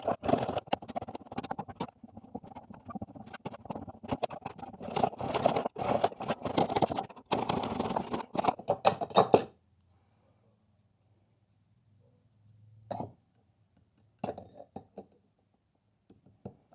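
Lock nut being tightened down on the center bolt of a Harbor Freight vibratory tumbler, with dense close metallic rattling and scraping for several seconds, then quiet with a few short isolated clicks.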